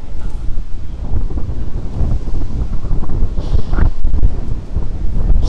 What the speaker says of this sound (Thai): ตอนนี้ลมข้างนอกแรงมากเลยไม่รู้ว่าเสียงผมจะต้านกับเสียงลมได้หรือเปล่านะครับ